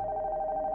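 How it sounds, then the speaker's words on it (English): A telephone rings steadily upstairs in a horror video game, a continuous electronic bell tone heard at moderate level with no talk over it. "The phone upstairs is ringing"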